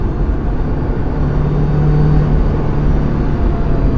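Steady, loud engine drone of a Subaru WRX Limited held in 3rd gear at about 4,000 RPM under acceleration, a continuous even roar with a low hum throughout and no talking.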